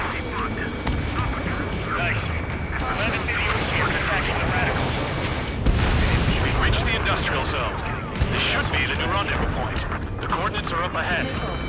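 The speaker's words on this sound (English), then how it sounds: "Strider 1, missile launched. Anti-air gun eliminated." A missile launch and explosions in Ace Combat 7 combine with a roaring jet engine and rumbling blasts in a dense, continuous wash, while radio voices talk over it throughout.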